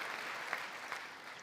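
Faint, distant applause ripples through the Congress chamber during Trump's address, a soft continuous patter with a couple of slightly sharper claps.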